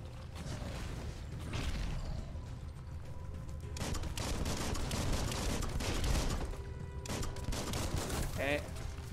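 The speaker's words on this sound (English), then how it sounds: "Spinning around and shooting him." Rapid bursts of gunfire and mechanical clanks come from the video game Biomutant as the character spins around while shooting, fairly faint and continuous, with fire sustained over several seconds.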